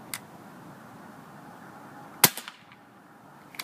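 A CO2-powered BB gun fires at a cardboard box: a single sharp close snap followed by a couple of quick ticks, with faint pops before and after against a quiet background.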